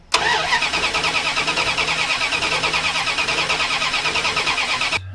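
A Dodge truck engine cranks with a rapid, even starter whir for about five seconds, loud and close, before cutting off abruptly without catching.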